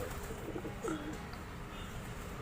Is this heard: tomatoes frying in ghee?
no